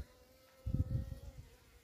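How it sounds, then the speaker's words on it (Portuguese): Bees buzzing around their large nest hollow in the undergrowth of the bush, a short burst of low droning that swells for about a second, close by and moderately loud. "Essa abelha aqui tem futuro."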